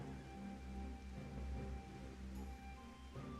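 Steady in-game rain in Final Fantasy XIV, a soft continuous patter and wash with a low ambient hum and faint background tones, no voices.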